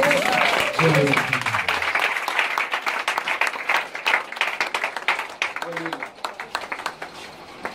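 A church congregation at a Sunday morning service breaks into loud, sustained applause. The clapping is dense at first, then thins into scattered claps, with a voice speaking over it at the start and again midway.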